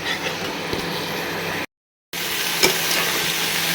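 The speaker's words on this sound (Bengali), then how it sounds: "হলুদ আর অল্প কাশ্মীরি লঙ্কা গুঁড়ো দিয়ে এবার একটু ভালো করে কষিয়ে নেব" Turmeric and Kashmiri chili powder masala sautés in a pan with a little water, giving a continuous soft sizzle and light scraping stirs, broken by a brief silent gap.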